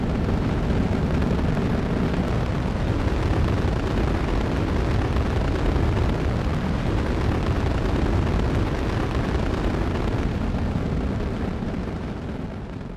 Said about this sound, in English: We have a liftoff.